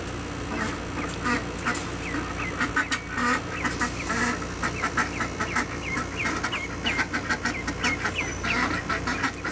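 Ducklings and other farmyard fowl quack and chatter continuously in a dense, busy chorus, close by, with chickens nearby and a faint engine hum underneath.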